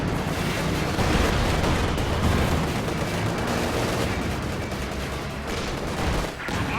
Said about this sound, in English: Bit of a tank battle here coming down.